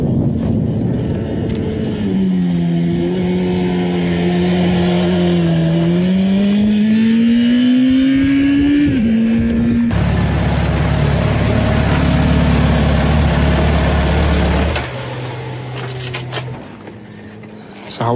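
Motorcycle ridden hard on a curvy road, engine revving and rising in pitch through the gears, passing with strong wind rush; engine note drops and shifts in steps toward the end.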